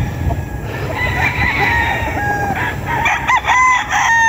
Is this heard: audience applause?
no